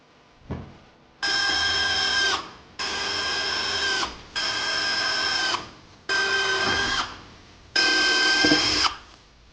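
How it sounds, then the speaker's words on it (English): A power drill drives screws into a DIY floating shelf in five separate bursts of about a second and a half each. Each burst is a loud, close, high whine with short pauses between them. "Put the screws in."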